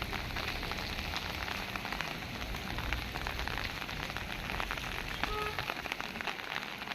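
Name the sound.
heavy hailstorm with rain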